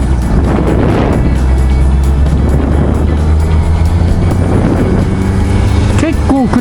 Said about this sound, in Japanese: はやぶさ乗ってる。